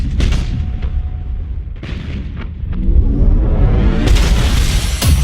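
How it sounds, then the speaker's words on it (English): Enemy starship exploding in Battlefleet Gothic: Armada, a loud, deep rumbling blast with booming bursts that swell into a sustained roar toward the end, no voices. "We should keep our distance from the enemy ship, sir. It will soon explode."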